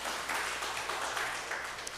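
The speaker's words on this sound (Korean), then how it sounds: "감사의 박수 보내주셨으면 좋겠습니다" A church congregation gives a round of applause on its 61st founding anniversary, a soft, continuous patter of clapping from many hands heard at a distance for a couple of seconds.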